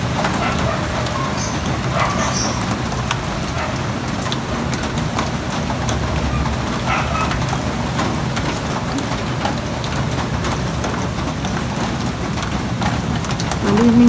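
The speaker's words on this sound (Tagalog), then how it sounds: "parang umuugong pa rin yung hangin kasabay ng ulan" Roaring wind and steady heavy rain from Typhoon Kristine in Bulacan pour with a broad, roaring rush that holds constant throughout, with no voices.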